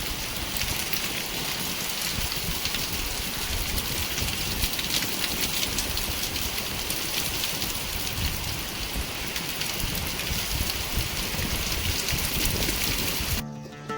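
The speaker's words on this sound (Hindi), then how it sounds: "तो ये बहुत तेज़ हवाओं के साथ बारिश चल रही है" Heavy monsoon rain with strong wind lashes a mountain area, a dense, loud, unbroken hiss of rain on surfaces that holds steady for the whole stretch.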